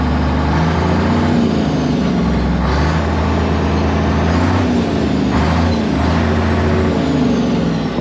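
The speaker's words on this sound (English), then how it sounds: "That motor sounds good." A motor being tested to see if it will run idles steadily and loudly close by, a continuous low rumble with a throbbing beat that holds for the whole stretch without any talk.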